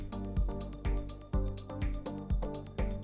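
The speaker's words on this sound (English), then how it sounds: "When you are beginning and you make a little drum loop like this" A punchy drum loop repeats at a steady groove, with booming kicks, snare hits and bright hi-hats, sounding somewhat thin and unpolished.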